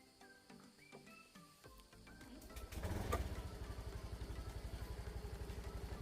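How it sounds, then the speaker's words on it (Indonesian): A motorcycle engine turns over and catches, then settles into a steady, rapid idle thump that continues close by at moderate loudness, with no talking. "Sekarang nyalakan dulu motornya."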